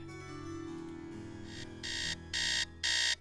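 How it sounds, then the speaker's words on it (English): In-game alarm from Nancy Drew: Treasure in the Royal Tower, heard as steady electronic tones under a hum, followed by three loud, bright buzzing bursts separated by short gaps. "I hate this alarm sound."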